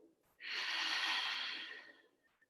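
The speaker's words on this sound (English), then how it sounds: "Deep breath in through the nose. Open your mouth, exhale." A single long exhale through an open mouth after a deep breath in, close and soft, swelling quickly and fading out over about two seconds with no talking.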